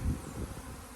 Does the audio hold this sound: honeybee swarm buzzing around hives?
yes